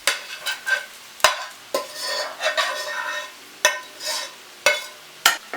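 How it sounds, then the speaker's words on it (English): A spoon stirs cooked onion and celery into a bowl of stuffing, giving repeated scraping and clinking strokes in an irregular rhythm, close and moderately loud, with no talking. "And we're just going to mix in the onion and the celery."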